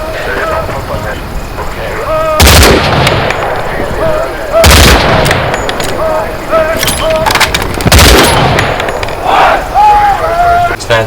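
Gunfire in the video game Hell Let Loose Vietnam, several loud, close single shots spaced a couple of seconds apart over a continuous battle din, with a voice speaking throughout.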